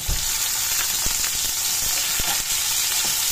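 Tomatoes stirred and frying in a pan for squid adobo, a steady loud sizzle running throughout with a few soft clicks of the utensil against the pan.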